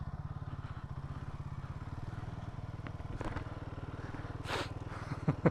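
A motorcycle on a solo ride along India's west coast between Goa and Murudeshwar heads onto a beach, its engine thumping in a steady, even idle-like rhythm up close, with a few faint scrapes and clatters toward the end.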